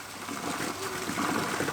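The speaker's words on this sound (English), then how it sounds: "Turn the water off." Tap water runs in a steady trickling, splashing stream, moderately close and continuous, with faint voices nearby.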